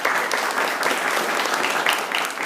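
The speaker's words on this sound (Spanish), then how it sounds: "démosle otro aplauso a Diana" A church congregation applauds Diana with steady, dense clapping that fills the whole moment at an even loudness, no voices rising above it.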